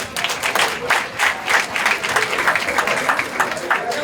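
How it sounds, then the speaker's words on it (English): An audience at a mayoral candidate forum claps warmly, a steady patter of many hands at moderate distance lasting several seconds. "Give yourselves a round of applause."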